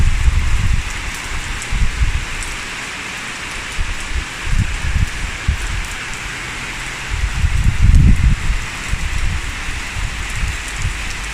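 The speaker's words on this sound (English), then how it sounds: "it was starting to rain and now it's fully raining" Steady rain falling outdoors, a continuous broadband hiss of drops on surfaces with heavier gusts and low rumbles now and then, close and fairly loud throughout with no talking.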